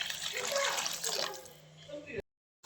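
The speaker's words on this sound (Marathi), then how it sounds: "आता गरम केलेलं पाणी टाकते." Heated water is poured into a pan of tempered potato curry, a close splashing gush lasting about two seconds that ends abruptly, with someone talking over it.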